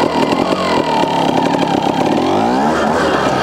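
A Fantic twin shock trials motorcycle is ridden nearby, its engine loud and continuous with repeated throttle blips and revving that rise toward the end, with no talking.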